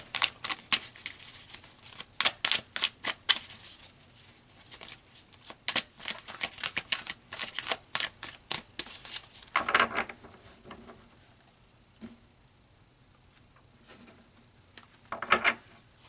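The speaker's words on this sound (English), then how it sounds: "So let's pull some more cards." A deck of tarot cards is shuffled by hand in quick crisp bursts of riffling and flicking, separated by short pauses and a longer quiet stretch. The sound is close and light, with no speech.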